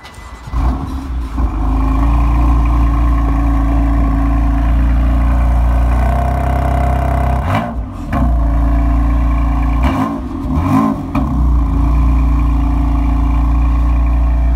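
A BMW M4 engine idles with a deep, steady exhaust burble, interrupted by a few short throttle blips that rise and fall, loud and close.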